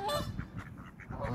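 A duck and several drakes on the water give a quick run of honking, nasal calls, three or four bursts in close succession, fairly near and loud.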